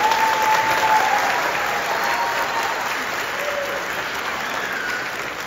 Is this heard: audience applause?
yes